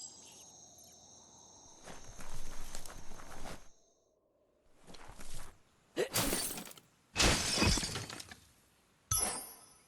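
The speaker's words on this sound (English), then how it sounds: "You shouldn't worry about smashing up the box." A box being smashed up in the video game Biomutant: several loud, crackling breaking bursts separated by short gaps over a quiet ambient background with insect-like chirps.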